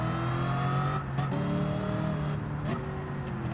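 A 1969 Camaro Z28 in Gran Turismo 7 revs hard through a U-turn, a loud continuous engine roar with pitch dropping and climbing as the throttle is feathered, plus a brief tire squeal.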